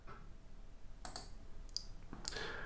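A few quiet, sharp computer mouse clicks spaced apart during a document export, alone over faint background hiss.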